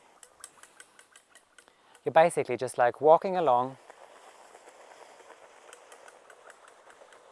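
Steady, rapid clicking from a lawn fertilizer spreader pushed across grass for autumn fertilizing, running throughout at close range, with a short stretch of talk in the middle.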